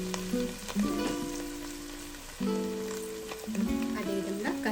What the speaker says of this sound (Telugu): కొద్దిగా ఆయిల్లో మనకి ఈ విధంగా ఫ్రై అవ్వాలి మసాలాలు